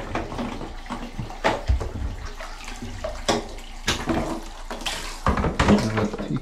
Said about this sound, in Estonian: Vesi hakkas jooksma valesse kohta